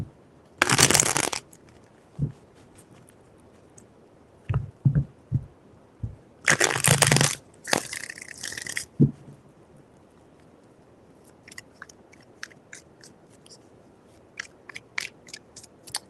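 Tarot cards are shuffled in two loud riffling bursts, with scattered taps and soft card knocks between and after, close and without talk.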